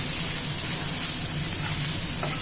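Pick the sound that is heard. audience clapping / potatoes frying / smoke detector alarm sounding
potatoes frying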